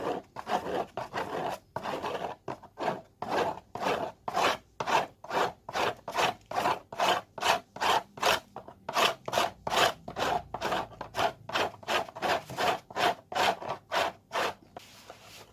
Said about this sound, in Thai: พอเราขูดสบู่เป็น ผง แบบนี้แล้วนะคะ